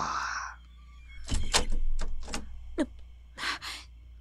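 A door is handled outside, a run of knocks, thuds and a latch-like clunk, spaced irregularly over low background hum after a brief tonal sound at the start.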